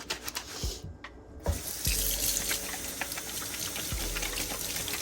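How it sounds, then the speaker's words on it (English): A kitchen tap runs as sneaker laces are rinsed under it, a steady close gush of water that briefly cuts out near the start, then flows on continuously. "just go ahead and just rinse the laces out"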